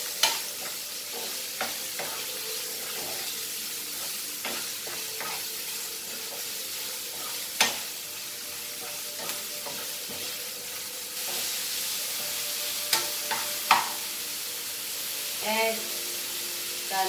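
Onions with bay leaves fry and sizzle in a pan, steady crackling broken by scattered scrapes and knocks of stirring, close up with no one talking.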